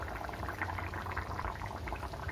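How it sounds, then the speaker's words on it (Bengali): Potatoes boil in water inside a covered pot over a high flame, giving a steady, continuous bubbling rumble with no voices. "আলুটা জল দেওয়ার পর 3 থেকে 4 মিনিট একটু হাই ফ্লেমে ঢাকা দিয়ে হতে দেব"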